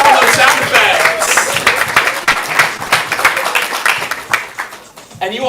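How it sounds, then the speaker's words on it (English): A comedy improv audience claps for a performer in a loud burst of applause that thins into scattered claps, with a few voices calling out over it. "Another round of applause for Elvis."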